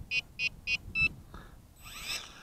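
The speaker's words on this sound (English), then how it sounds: "it automatically binds with the quadcopter at the end of all that beeping" A WLToys V686G FPV drone transmitter beeps four times in a quick even series while binding with the quadcopter. The pulses are short, bright and close, then a softer electronic whoosh follows.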